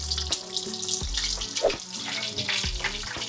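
Breaded chicken katsu thigh, tenderized beforehand, fries in a pan with a steady, close crackling sizzle, broken by brief clatters and low rumbles.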